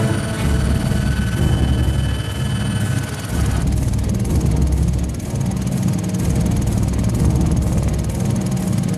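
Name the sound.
helicopter flying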